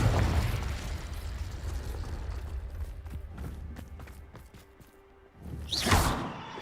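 A Confringo blast spell in the Hogwarts Legacy video game, a rumbling explosive burst that decays with debris crackle, followed by a second sharp whooshing blast near the end, loud and close.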